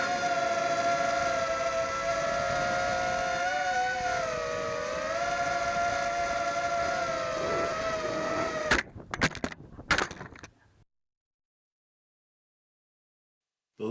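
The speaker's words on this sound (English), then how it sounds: "Here's a sample of the motor noise going around the FPV course where I hit the swing set." A Tarot 130 FPV quadcopter flies around a course with a high, steady buzzing whine from its motors. The pitch wavers as it manoeuvres, then it crackles and cuts out abruptly into silence.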